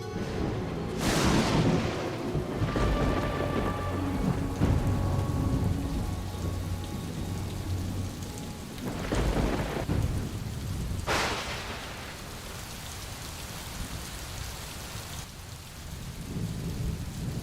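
Torrential tropical jungle rainstorm with heavy rain pouring steadily throughout and several loud thunder cracks and rolling rumbles breaking out at intervals, no voices.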